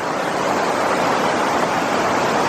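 Steady, dense roar of South Boulder Creek running high through Eldorado Canyon, a close, unbroken broadband rush of churning water with no voices.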